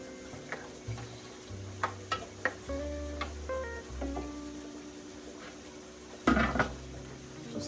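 A spoon stirs a one-pot rice and bean meal, scraping and knocking against the pot in irregular strokes, with a louder clatter near the end, all faint and close with no talk.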